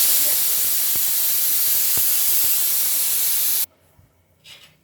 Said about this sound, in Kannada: ಹಾಕಿ ಸ್ವಲ್ಪ ನೀರನ್ನು ಹಾಕಿ ಇದು ಕೂಡ ಚೆನ್ನಾಗಿ ಕುದಿ ಬರಬೇಕು